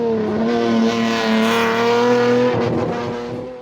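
A pre-1985 classic rally car at the East Africa Classic Safari Rally, its engine held at a loud, steady drone close by before the pitch shifts and the note begins to fade near the end.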